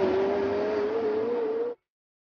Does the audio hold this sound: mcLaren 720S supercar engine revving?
yes